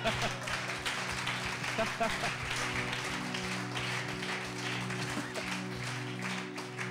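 Congregation clapping along in a church service, a dense steady patter of many hands over sustained organ or keyboard tones and voices, loud and close throughout.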